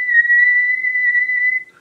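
A person whistles one steady, clear note held for nearly two seconds, close and fairly loud, then fades out at the end.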